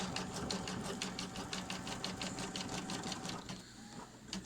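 A sewing machine runs a steady, rapid stitching pass over a seam on a boxy fabric bag, its even mechanical rhythm continuing close and loud before slowing near the end.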